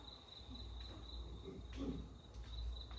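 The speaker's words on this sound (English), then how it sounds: "all I can hear are crickets and frogs croaking loudly in the drains" Crickets chirping at night in a drain-lined outdoor spot, a steady continuous high trill running throughout at moderate level, with a low background rumble and faint scattered rustles; no voices.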